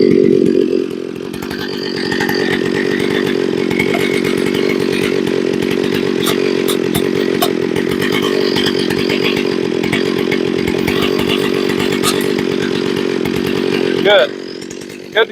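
A chainsaw set up for a chainsaw mill idles while warming up, a steady, loud, buzzing engine drone holding level for the whole stretch before a short change near the end, with no voice over it.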